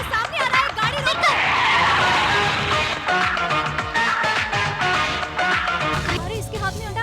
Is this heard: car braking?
yes